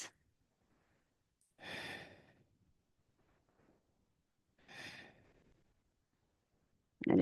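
Two slow, deep breaths during a hatha yoga back-strengthening pose, each a soft, airy exhale a few seconds apart, close and clear against near silence.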